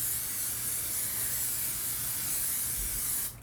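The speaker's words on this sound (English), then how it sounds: "I'm going to be using the Amika Fluxus Touchable Hairspray" Amika Fluxus Touchable hairspray sprayed onto hair, one continuous close aerosol hiss lasting about three seconds before cutting off abruptly.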